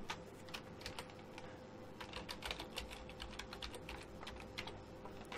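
A password being typed on a computer keyboard, a quiet rapid patter of key clicks running steadily throughout over faint background hum.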